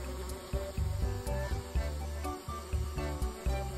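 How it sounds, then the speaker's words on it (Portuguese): An insect, likely a fly, buzzes around cyclists on a climbing ride in the Brazilian Amazon, a steady close droning hum with irregular pulsing swells and no voices. "Eu acho que é uma mosca."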